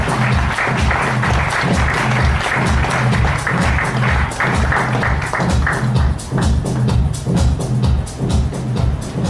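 Audience applause at the Appzone Champions 2013 award ceremony, loud sustained clapping over a rhythmic low musical beat that continues throughout.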